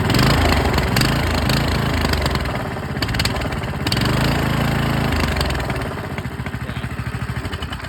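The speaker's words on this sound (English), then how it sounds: "Sometimes when you flip the throttle, it'll bog out." A small single-cylinder engine on a barn-found minibike with a blown engine runs rough and close, surging and sagging unevenly as the throttle is flipped, then settling into a lumpy, pulsing idle.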